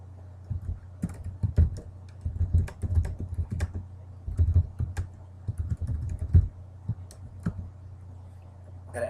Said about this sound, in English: So I guess we're gonna have to type.